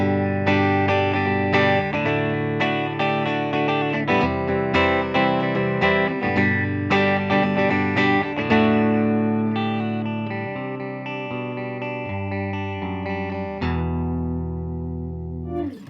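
A clean electric guitar on its middle pickup position, a Gibson Les Paul Special, plays a strummed chord progression with bright, glassy tone, ringing steadily and fading out on a final sustained chord.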